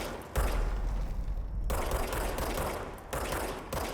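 Rapid bursts of service weapon fire from the Control video game, loud and close, with quick shots running nearly continuously and brief pauses between strings.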